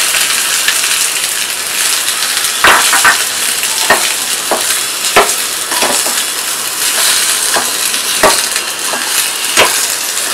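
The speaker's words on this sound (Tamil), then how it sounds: "எண்ணெயோட வெறும் வெங்காயம் மட்டும் சேர்த்து வதக்கி தாளிப்பு போடுறோம்" Onions fry in oil for a tempering for a spinach and lentil gravy, giving a loud, steady close sizzle with scattered crackles and stirring scrapes throughout, and no voices.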